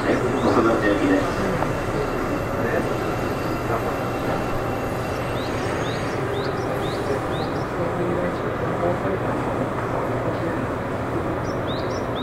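A Seibu Tamako Line 9000 series train bound for Kokubunji runs along steadily, giving a continuous rumbling hum with faint, brief high squeals from the wheels or brakes.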